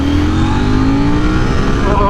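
A 2024 KTM 790 Duke with an upgraded WP Apex Pro suspension kit accelerates hard in second gear, its loud engine note climbing steadily in pitch, close and continuous, over rushing wind noise.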